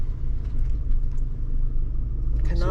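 A bus pulls away from a stop in Beddgelert, heading off towards Caernarfon: a steady, loud low engine rumble with road noise that holds throughout, rising slightly at the end as it moves off.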